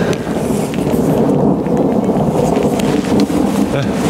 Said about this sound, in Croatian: Kao što vidite, grmi, seva, samo što kiša